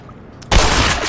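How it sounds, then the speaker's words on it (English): Shotgun blast in the first-person shooter Black Mesa, set in the alien world Xen: a single sudden loud, broadband boom followed by a sustained roar of game noise. "It's very satisfying to one-shot these things with a shotgun."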